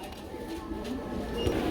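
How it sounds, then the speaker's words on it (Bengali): Soft, low cooing of racing pigeons, murmuring continuously at close range over a faint background hum. "একজোড়া রেসার কবুতর রয়েছে"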